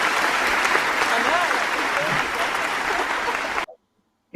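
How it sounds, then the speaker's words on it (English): Polite audience applause at a Camden live-stream music gig, steady and fairly close for about three and a half seconds, then cutting off abruptly into silence. "That's actually very polite clapping."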